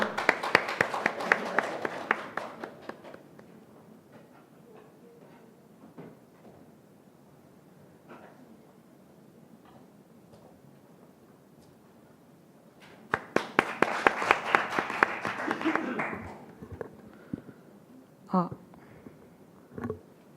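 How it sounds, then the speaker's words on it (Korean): A student speech contest audience claps to welcome a high school speaker, a short burst of applause at the start, then quiet with faint shuffling, and a second louder round of clapping later before scattered taps. "박수로 맞아주십시오"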